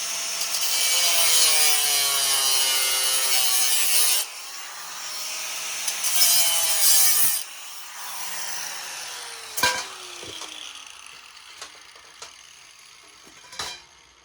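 Sheet metal being cut by hand to form a flap for an end cap on a DIY compact motion simulator frame, heard as loud, continuous rasping strokes in several bursts, then a few sharp isolated clicks and taps.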